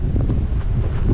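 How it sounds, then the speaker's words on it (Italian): Strong wind roars across a high mountain in Morocco's Atlas range, buffeting the microphone in a loud, continuous low rumble with gusty swells and no voices. "Non so se si sente qualcosa perché c'è un vento della Madonna."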